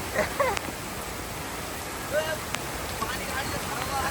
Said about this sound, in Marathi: आणि अशा प्रकारे मोकार पाऊस पडतोय